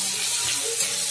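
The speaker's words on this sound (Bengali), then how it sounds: "পেঁয়াজটা একটু লাল করে ভেজে নেব।" Chopped onion sizzles steadily as it fries in hot oil with bay leaves, a close, even hiss with no pauses.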